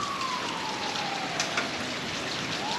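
Steady rain falling outdoors, a close, even hiss of drops striking surfaces throughout, with a faint tone drifting in the background.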